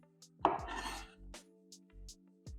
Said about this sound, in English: with any of the good stuff, we're just going to cut this into slices